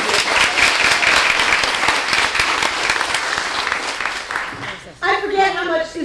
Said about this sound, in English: give another round of applause to Poppy Northcutt